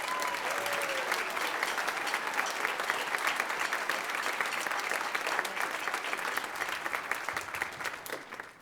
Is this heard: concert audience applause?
yes